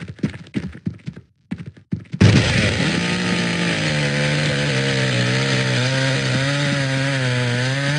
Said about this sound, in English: Why do they have actual, like, real chainsaws in this haunted house?